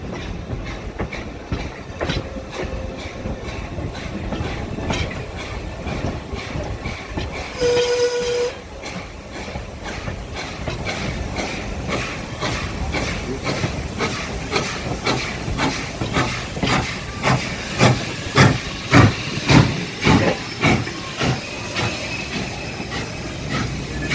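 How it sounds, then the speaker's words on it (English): Two Norfolk & Western steam locomotives, Nos. 611 and 475, pass each other with passenger trains, a steady rumble of moving cars with rhythmic wheel clatter that grows louder, plus a brief whistle-like tone partway through. "this is where our 2 operating steam-powered passenger trains will pass each other"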